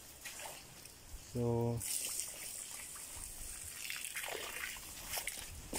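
Water trickles and sloshes in a shallow stream on a rural path, a steady close babble with a brief loud splash-like burst, while someone speaks over it.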